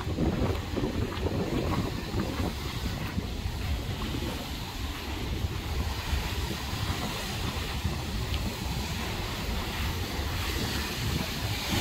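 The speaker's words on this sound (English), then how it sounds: "Big old waves rolling in" Steady roar of ocean surf rolling in on a Boracay beach, broad and continuous with wind noise buffeting the microphone, no voices.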